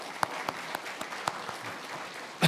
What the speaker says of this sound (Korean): 자리에서 일어나셔서 박수 한번 하나님께 영광을 올려드리겠습니다.